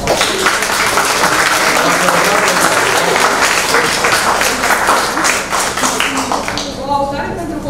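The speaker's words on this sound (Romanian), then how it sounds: "Încă o dată vă rog să-l aplaudăm." An audience claps continuously at a book launch in Bacău, sustained dense applause filling the room, with a voice speaking over it toward the end as the clapping thins.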